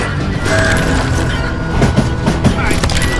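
A dense, steady rumble of a train rolling on rails in the video game Call of Juarez: Gunslinger, with clattering metallic knocks and scattered sharp impacts layered over the continuous noise.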